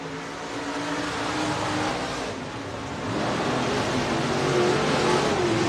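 IMCA Sportmod race cars roar around Buena Vista Raceway, a continuous loud engine drone with rising and falling revs as the pack runs single file, some pitch sweeps as cars pass, no one talking over it.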